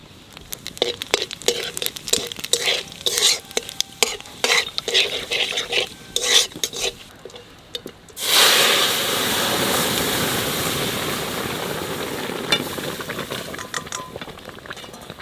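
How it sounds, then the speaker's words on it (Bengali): Dried red chilli and cumin are dropped into hot oil after a stretch of clinking stirring, and a loud, sustained crackling sizzle suddenly erupts and holds steady to the end. "শুকনো লঙ্কা জিরে তেলের উপর দিয়ে দেবো।"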